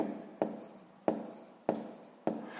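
Pen strokes scratch across paper as numbers are written by hand, four distinct sharp-onset strokes each trailing off, close and quiet with no talking.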